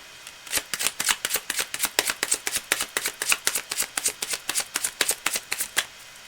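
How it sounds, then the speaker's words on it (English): A deck of tarot cards is shuffled in a quick, steady run of crisp riffling slaps, about twenty in a row, close and clear with no talking. "Cards are already well shuffled in advance."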